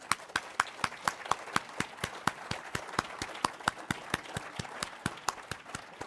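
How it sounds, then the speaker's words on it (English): Steady applause from an audience at an awards ceremony honoring medal recipients, a rhythmic train of sharp claps at a brisk even pace, fairly quiet and distant-sounding, with no speech over it. "give an additional round of applause to our honorees this year."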